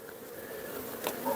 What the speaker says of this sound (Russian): Я вам показываю рамку с пчелами.